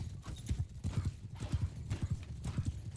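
Horses gallop during a Mount & Blade II: Bannerlord battle, a steady rapid clip-clop of many hooves rolling along at mid distance, with a faint neigh in the mix.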